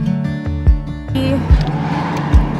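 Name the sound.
car driving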